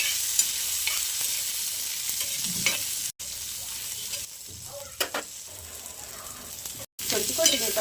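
Garlic and cumin frying in a hot pan, a steady close sizzle with occasional stirring scrapes, briefly cut off twice.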